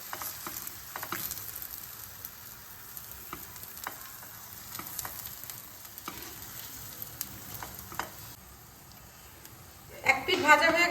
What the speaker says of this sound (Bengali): এবার আমি এতে 1 চামচ তেল দিয়ে দিচ্ছি। এবার আমি 1 চামচ ব্যাটার দিয়ে দিচ্ছি